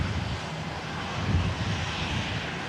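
Airplane engines run on a runway during live plane spotting as a steady, distant broadband roar with a low rumble, holding even throughout with no voices.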